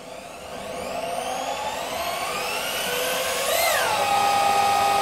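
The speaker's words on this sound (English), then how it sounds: "This drill's getting hot." A power drill spinning a car alternator on a bench test whines steadily, its pitch rising gradually as it spins up under load, then briefly surging higher before settling; loud and close.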